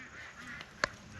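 Turkeys being moved on a homestead give one short, sharp honk-like call, clear above a low, steady outdoor background.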